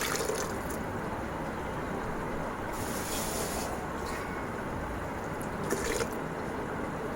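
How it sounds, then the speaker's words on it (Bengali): Water runs into a rice cooker pot for khichuri, a steady close trickling and splashing stream with faint drips, continuous and fairly even throughout with no talking. "পানি দেয়া হয়ে গিয়েছে।"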